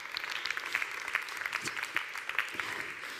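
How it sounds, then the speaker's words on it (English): A startup pitch competition audience at a Med-Tech World event claps for the finalists, a modest, fairly distant patter of hands with scattered sharper claps. "Let's have a big round of applause"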